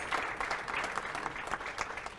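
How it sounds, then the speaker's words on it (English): Steady applause from an audience at a panel discussion welcoming the panelists, even, moderately distant clapping throughout with no voices over it. "So can we have a huge round of applause once again for our panelists?"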